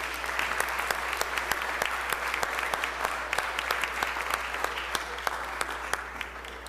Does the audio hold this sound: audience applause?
yes